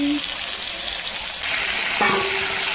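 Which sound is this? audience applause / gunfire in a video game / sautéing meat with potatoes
sautéing meat with potatoes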